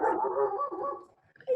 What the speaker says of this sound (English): the doggy is talking with us